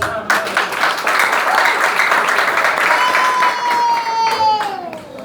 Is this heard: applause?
yes